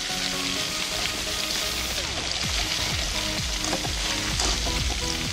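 Boneless fish pieces sizzling steadily in hot oil in a pan, a continuous close crackle and hiss with small spatters and occasional stirring scrapes, no voices.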